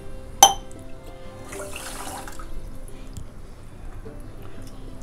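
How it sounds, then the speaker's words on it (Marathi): Water is poured from a cup into sugar in a pan for syrup, opening with a sharp clink and then a brief splashing rush that quickly fades into a quiet room. "2 पेले मी त्याच्यामध्ये पाणी घालणार आहे"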